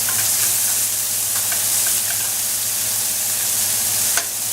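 Lamb chops frying in a hot pan, a steady close sizzle running throughout with faint scraping and ticking as they are stirred and turned at the edges.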